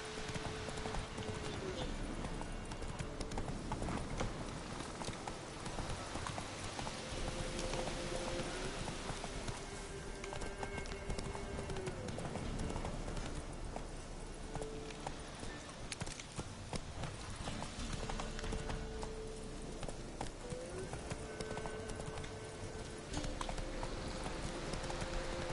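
Roach the horse galloping in The Witcher 3, a continuous rapid clip-clop of hooves under a dense game soundscape with steady tonal music, without speech.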